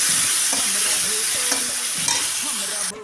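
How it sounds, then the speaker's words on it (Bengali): Chopped onions fry in hot oil in a pan for a Bengali tengra fish curry, a steady bright sizzle running throughout with a few soft stirring scrapes, close and fairly loud, no voices. "পেঁয়াজ কুচিটা ভালো করে লাল লাল করে একটু ভেজে নিয়ে"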